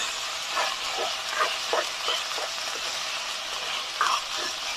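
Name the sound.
stirring jeera rice in a pot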